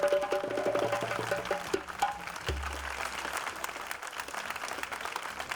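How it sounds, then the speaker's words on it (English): A rally crowd at a peaceful outdoor gathering in Peekskill, New York, applauds the Board of Education. Loud clapping opens the stretch, then trails into a softer scattered patter as a low rumble and a brief tone pass underneath. "Let's give our Board of Education a big round of applause"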